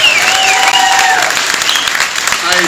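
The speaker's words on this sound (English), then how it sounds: "Give her a big round of applause." Loud, dense applause from a crowd at a mayor's housing town hall in Huntington Beach, steady throughout, with some cheering and voices mixed into the clapping.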